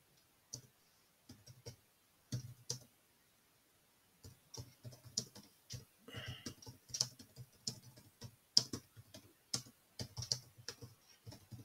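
Fingers type on a computer keyboard in quiet, close bursts of clicking keystrokes with short pauses between words, soft and intimate throughout.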